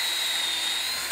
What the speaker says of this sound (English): Then continue pre-drilling in the middle and along your frame on the front and back.